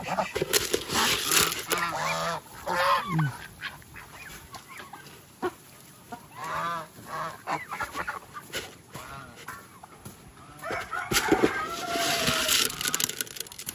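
A turkey calls in a series of warbling gobbles and clucks, close and fairly loud, repeated several times over a background of faint outdoor noise and occasional human voices.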